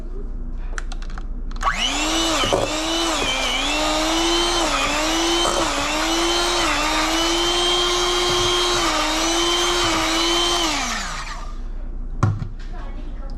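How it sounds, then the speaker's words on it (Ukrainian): An electric hand mixer whirs steadily for about nine seconds, close and loud, as it cleans red salmon caviar in warm salted water, its pitch wavering slightly under load, with faint clatter before and after. "Дивіться, міксер. І пробуємо."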